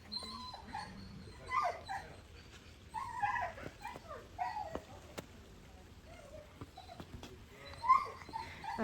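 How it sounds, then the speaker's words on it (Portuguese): Several dogs meeting and sniffing each other out on a country farm, giving short whimpers, yips and soft barks scattered in bursts over a quiet outdoor background, fairly close, with no talking. "Os cachorros estão se conhecendo."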